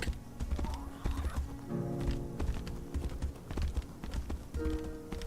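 A horse in the Tainted Grail: The Fall of Avalon game whinnies and trots with clip-clopping hooves, fairly quiet with a game music tone underneath.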